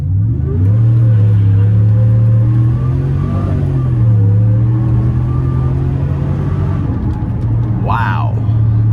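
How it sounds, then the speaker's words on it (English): A supercharged 6.2-liter V8 in a 2021 Chevrolet Silverado 1500 LTZ 4WD, in sport mode, roars loudly at full throttle, its strong low drone climbing steadily in pitch as the truck accelerates, heard close from inside the cab. "so I'm gonna go ahead and floor it now"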